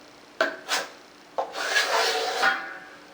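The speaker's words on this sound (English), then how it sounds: "I'm gonna take up my 12-inch trowel and just come here and go across with it." A 12-inch trowel scraping drywall mud across a wall during crack repair, heard as two short rasping strokes followed by a longer continuous scrape, close and fairly loud with no talking.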